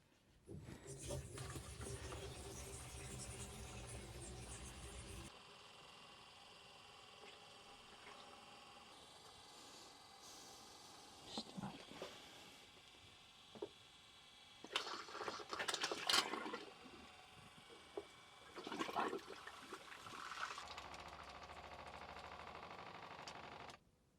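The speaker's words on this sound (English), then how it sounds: "Turn the pump on." A campervan's water pump runs in bursts, whirring and rattling on and off with watery gurgling as the system reaches pressure, heard fairly close against a quiet background.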